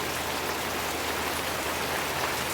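Heavy monsoon rain pours steadily in Kundarki, a village where downpours have brought down a house: a dense, even hiss of drops hitting surfaces, close and constant for the whole stretch, with no voices.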